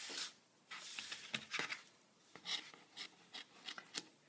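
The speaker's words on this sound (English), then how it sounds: "So now I'm going to come in with my scissors." Scissors snip and trim around the largest wool felt penny on a hand-stitched penny rug, giving a quiet series of short, irregular cutting and rustling sounds close by, with no talking.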